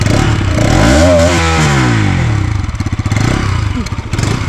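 A DRS 200 motorcycle exhaust is tested with loud, close revving. Engine pitch rises and falls through a sweep, then settles into a rough, pulsing idle with some clatter.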